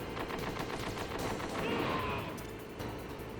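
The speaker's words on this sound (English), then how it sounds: "you can sort of do the walk in such a way that you can avoid the tank shells." Tank shells fire in the PlayStation game Metal Gear Solid Integral as a rapid series of sharp, repeated booms, then a louder blast swells in the middle before the firing continues.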